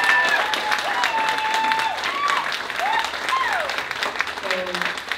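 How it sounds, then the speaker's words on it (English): An audience at a live music gig at Credo claps and cheers for the band, the applause sustained throughout while a guitar or voice glides above it. "Give a round of applause to these three gentlemen in front of me"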